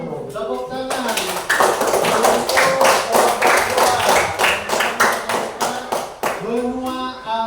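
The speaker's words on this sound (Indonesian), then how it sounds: "Tepuk tangan." A classroom audience claps for several seconds after a group presentation, a dense run of sharp hand claps that thins out toward the end, with voices speaking just before and after.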